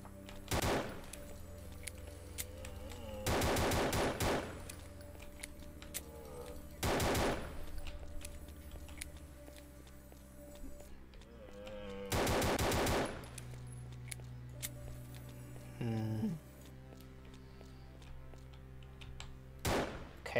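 A priest's gun firing in the horror game The House of Unrest: several loud rapid-fire bursts spaced apart over a low ambient hum, each a dense rattling volley lasting about a second.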